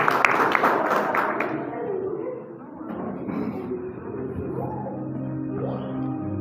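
A church congregation claps during a worship service, with a burst of brisk rhythmic clapping at the start that soon fades into a murmur of voices and background sound.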